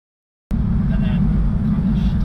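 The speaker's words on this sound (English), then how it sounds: "It's a very loud car, guys, bear with us." A very loud car engine, the wide-body Nissan Micra being worked on, roars in close after half a second of silence and holds a heavy, steady low rumble to the end, with a voice talking over it.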